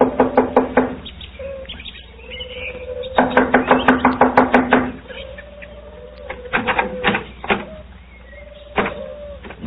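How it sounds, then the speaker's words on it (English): Several bursts of rapid knocking, close and sharp, come in clusters separated by pauses, with faint chirping tones in between. "I'll knock on the door."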